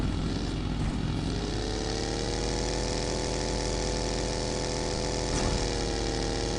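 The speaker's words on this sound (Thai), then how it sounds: "เครื่องบินมาแล้วเครื่องบินม าแ ล้วมาเครื่องบินเครื่องบิน" Propeller airplane passing over in the battle-royale game PUBG, a steady loud droning engine hum with dense harmonic tones that holds without a break, no voices present.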